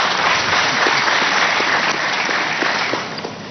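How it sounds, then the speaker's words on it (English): A live audience at a Kenyan presidential running mate debate applauds a candidate, thick, steady clapping across the hall that tapers off toward the end. "Once again, a round of applause for Mr."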